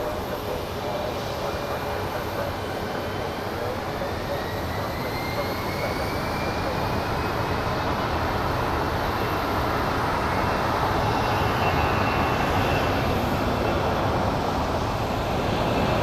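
An airliner in Boston Celtics special livery departing Phoenix Sky Harbor on a wet day: a broad, steady jet roar that builds slowly over many seconds, distant but filling.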